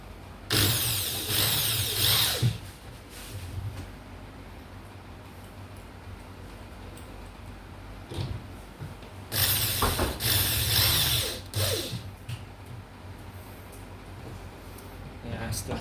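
Screws are tightened into a wardrobe lock during furniture assembly: two bursts of rapid, close ratcheting clicks, several seconds apart, with a person talking in between.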